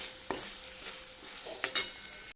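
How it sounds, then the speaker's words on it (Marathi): Suji pasta with chili flakes and butter is stirred in a pan, making a soft background sizzle with a few light scraping taps and two sharper clinks near the end, close and quiet. "आता ह्याच्यात थोडंसं चिली फ्लेक्स घालायचं आहे आणि थोडंसं बटर घालायचं आहे आणि मिक्स करून घ्यायचं आहे"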